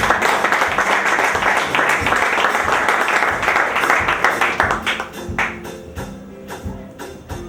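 An audience at a church graduation ceremony claps and cheers in dense sustained applause that thins into scattered, individual claps toward the end.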